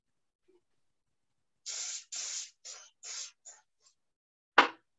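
A spray can lays a finish coat over a GluBoost-treated surface in short hissing bursts, five quick sprays in a row, then a pause and one last sharp burst, close with no talk.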